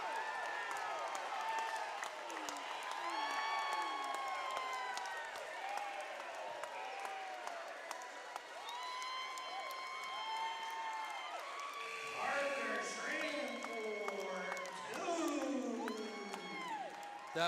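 A Williamstown basketball crowd and bench erupting after a dunk, loud sustained cheering, whoops and shouts filling the gym, rising again near the end.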